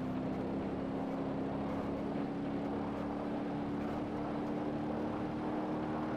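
A Range Rover races at high speed along an airport runway in BeamNG.drive, its engine a steady, loud, continuous drone with a constant hum running through it and no voices.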